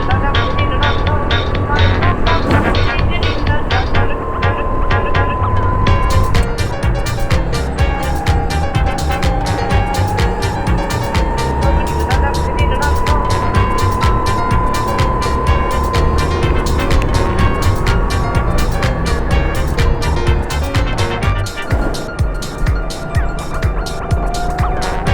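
A racing kart engine buzzing steadily at high revs during an endurance race, the loud, continuous drone rising and falling with shifts in speed, while a voice talks over it throughout.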